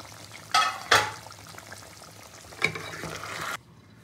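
Chicken frying in a pan with onion and tomato, a low steady sizzle broken by a few louder scraping stirs near the start and middle, then a sudden drop to near silence at the end.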